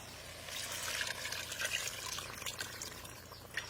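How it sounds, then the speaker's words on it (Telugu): Water is poured into a pan of mutton masala curry until the meat pieces are covered, a steady splashing, trickling pour lasting several seconds, close and fairly quiet with no voices. "నిండా మునిగే వరకు నీళ్లు పోసుకోవాలి."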